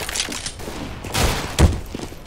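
Pistol gunfire in the video game CS:GO, fired while strafing: a few sharp, loud shots at irregular intervals, the strongest near the middle and end, with no talk over them.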